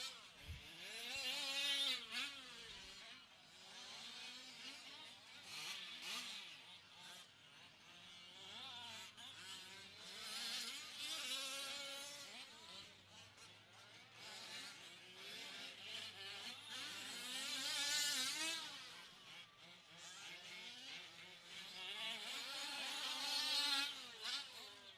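Small two-stroke engines of 1/5 scale race cars on a dirt oval drone and whine, rising and falling as they pass, fairly faint and distant, with overlapping engine notes throughout.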